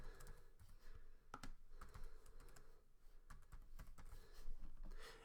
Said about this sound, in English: type in their information